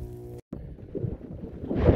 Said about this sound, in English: Sorry about the wind, guys. It really started picking up here.